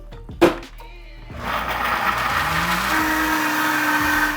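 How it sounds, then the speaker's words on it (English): A kitchen blender blitzes half of a fall soup with kale and lemon juice to thicken it, starting after a brief knock and then running as a loud, steady whir through to the end. "We're gonna add in half, blitz it, and then add it back in to thicken our soup"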